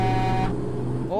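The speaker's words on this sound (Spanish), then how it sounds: "Oiga, ¿y esas bocinas?" Vehicle horns blare in American Truck Simulator, a loud sustained honking tone over road engine noise for about half a second, then fading into continued traffic rumble.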